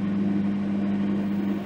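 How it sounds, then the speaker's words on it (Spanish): A running microwave oven's magnetron gives a steady, loud, close electrical hum with a low drone and a faint hiss on top, unchanging for the whole stretch. "si afináis el oído, podéis saber cuándo se activa el magnetrón porque hace un sonido muy característico"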